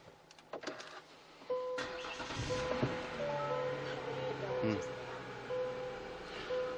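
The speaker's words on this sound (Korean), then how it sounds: "그럼 제가 이제 올라타면서 한번 시동부터 먼저 걸어보도록 하겠습니다" A used Hyundai Equus VS380 Prestige starts with a brief starter crank and then settles into a smooth, quiet idle. Door and seat clicks and a whirring power-seat motor come through nearby.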